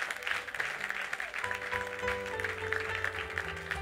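A church congregation applauds to acclaim the Lord. The clapping is steady, moderately loud and sustained, with a musical tone held underneath throughout.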